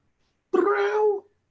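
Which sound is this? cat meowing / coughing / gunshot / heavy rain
cat meowing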